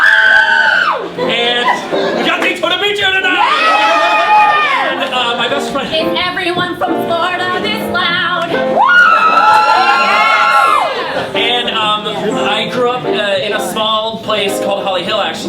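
A Florida crowd at a live evening show cheers, whoops and shouts loudly and continuously, with many overlapping voices swelling in waves throughout.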